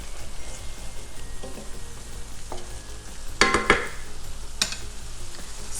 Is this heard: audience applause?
no